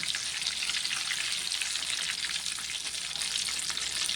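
Chicken leg pieces deep-frying in hot oil, a steady close sizzle and crackle that holds evenly throughout with no voices.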